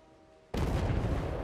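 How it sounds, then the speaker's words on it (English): A giant explosion in the video game Medal of Honor: Above And Beyond erupts suddenly after a quiet moment and stays as a loud, sustained roaring blast with no talking. "Let's enjoy the giant explosion over there."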